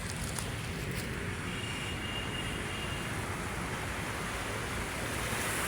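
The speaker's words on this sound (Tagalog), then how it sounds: "Ayan yung alon, oh. Mahina pa lang naman yung alon, ano." Gentle sea waves wash along the shore of Manila Bay, a continuous broadband rush of surf close by, steady and fairly loud with no talk.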